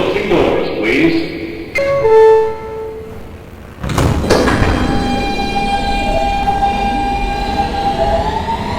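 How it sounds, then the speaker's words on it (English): An R160B Siemens subway train on the W line at a New York station: a stepped electronic chime, then a loud thump and rumble as the doors shut, followed by a rising motor whine as the car begins moving. "Stand clear of the closing doors, please."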